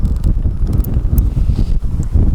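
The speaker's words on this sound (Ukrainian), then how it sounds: "Вітер піднявся, холодно." Cold, gusty spring wind on the Desna river batters the microphone in loud, uneven low-frequency bursts throughout, with no voices.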